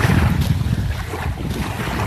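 Waves washing along Playa Santa Barbara, a steady broad rush of surf close by and mixed with gusty wind buffeting the microphone, with no talk over it.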